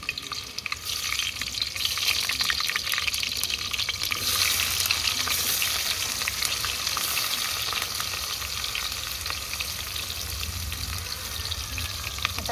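Cumin seeds and green chillies sizzle steadily in hot oil in a pot over a wood-fired clay stove, a loud, continuous crackling frying hiss with no pauses and no talk.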